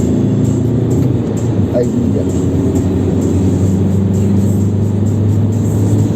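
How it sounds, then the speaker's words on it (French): Diesel car engine held near 3500 rpm at motorway speed, a steady loud droning rumble with a faint turbo whine riding on top, under a brief spoken exclamation. "Ah, on entend le turbo."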